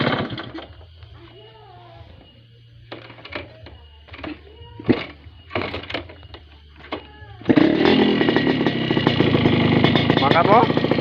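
A 1997 Yamaha RX King two-stroke motorcycle engine gives a few short revs and sputters, then runs loud and steady near the listener for the last few seconds.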